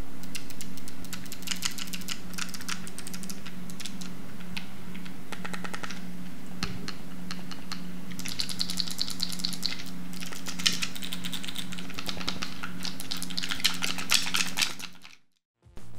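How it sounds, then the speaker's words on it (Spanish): Mechanical face buttons on a Machenike G5 Pro game controller, pressed in quick irregular runs of sharp clicks, close and crisp, alone without talk. "Escucha este ASMR de los botoncitos."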